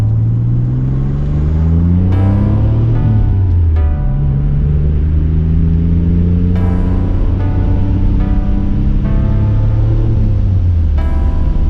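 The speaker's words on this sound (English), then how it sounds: "We're going about 45 miles an hour down a windy road right now" A 1987 Nissan 300ZX cruising along winding back roads at about 45 mph, its engine a steady loud drone with rising and falling tones as it shifts and pulls, continuous cabin road rumble throughout with no talking.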